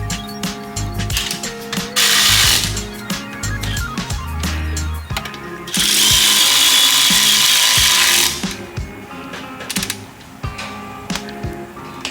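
Ratchet clicking as bolts are tightened on a hot, freshly welded differential being reinstalled, with bursts of rapid pawl ticking between louder mechanical clatter, close and busy.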